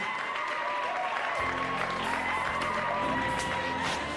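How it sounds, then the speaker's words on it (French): Audience applause after a twist dance on a French comedy show, continuous clapping with some cheering and whoops, steady and loud under a musical backing. "Applaudissez-la!"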